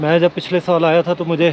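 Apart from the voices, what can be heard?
None of the usual background noises is heard.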